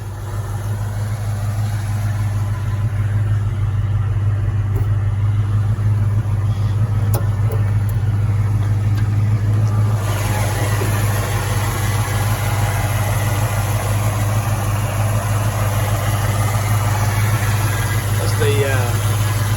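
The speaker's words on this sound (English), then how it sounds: "Power steering pump, you can hear there a little bit whining." A 1969 Ford Mustang Mach 1 survivor car with a 351 V8 idles steadily and up close, a strong low engine hum with a faint power steering pump whine above it; a voice talks over the idle.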